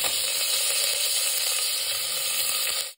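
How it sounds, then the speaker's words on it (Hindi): Fresh curry leaves sizzle loudly in hot oil with cumin in a pan, a dense steady crackling hiss that runs continuously for about three seconds and cuts off at the end, with no talking. "हमें इसके अंदर मुट्ठी भर कड़ी पत्ता डालना है"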